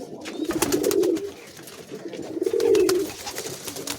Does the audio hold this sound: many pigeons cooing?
yes